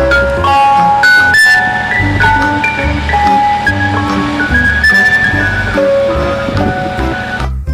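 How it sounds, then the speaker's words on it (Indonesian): A toy ice cream truck plays its electronic melody jingle loud and close, a steady run of bright whistle-like notes stepping up and down over a low buzzing hum. "Yang ini ada mobil es krim."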